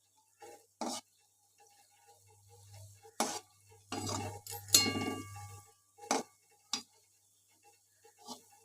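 Pieces of langcha being flipped one by one in a frying pan, giving scattered clinks and scrapes against the pan over a low sizzle.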